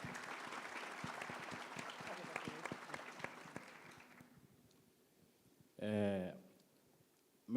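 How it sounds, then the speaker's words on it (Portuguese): A group gives a round of applause, dense clapping that thins and fades out over a few seconds, followed by quiet and then a short spoken phrase. "Salva de palmas"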